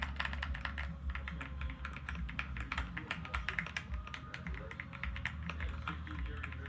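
Fast, steady typing on an Alua F75 Pro mechanical keyboard fitted with a knob: dense, close clicking keystrokes run continuously with no pauses or talk.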